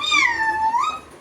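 A person imitates a cat's meow during a playful group game: one drawn-out, rising-then-falling mew, close and clear, with no other voices.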